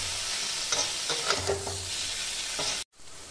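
Prawns sauté in a hot pan for a data prawn dish, giving a continuous close sizzle with spatula stirring and scraping, which stops abruptly near the end.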